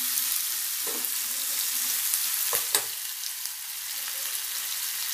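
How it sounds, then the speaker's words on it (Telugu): Onions frying in hot oil for a coriander tempering, a close, loud and continuous sizzle with a few brief scrapes from stirring partway through. "ఉల్లిపాయలు బాగా వేగుతాయి"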